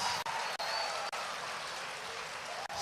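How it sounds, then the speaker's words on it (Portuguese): Church congregation clapping in applause during a worship service, a dense steady wash of many hands close by, lasting the whole short stretch with no voices standing out. "Dê uma forte salva de palmas para Jesus."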